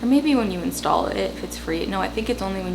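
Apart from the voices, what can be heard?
None of the usual background noises is heard.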